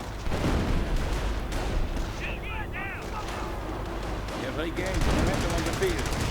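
Company of Heroes battle in a 1v1 match, US against Wehrmacht: steady rattling gunfire and booming blasts with a grenade hitting machine-gun crews, a dense continuous din with a commentator talking over it.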